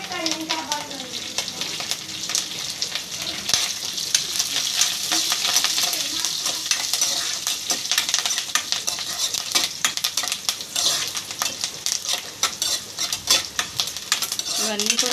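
Curry leaves crackle and sizzle in a pan for miriyalu charu as a spoon stirs and scrapes against the metal in quick repeated strokes, close and continuous, with faint talk in the background.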